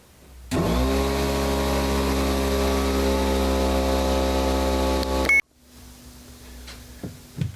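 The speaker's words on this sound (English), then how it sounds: "Compressor's charged up, airline's on the go." An air compressor motor kicks on abruptly with a loud, steady mechanical hum and whine, runs for several seconds, then cuts off, leaving faint clanks and rustling.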